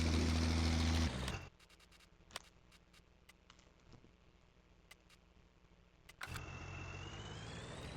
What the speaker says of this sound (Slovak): Celkom huláka ten traktor.